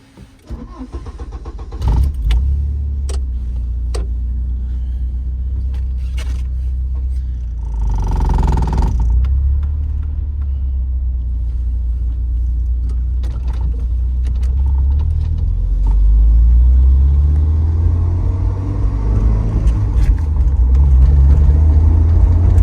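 A 1990 Porsche 944 S2 Cabriolet with a five-speed gearbox starts up, then settles into a steady close engine drone that swells as it pulls away and accelerates, loud and continuous with no talk.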